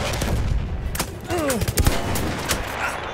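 Light machine gun fire crackles in a video game firefight, with several loud bursts and scattered shots over a noisy battle background.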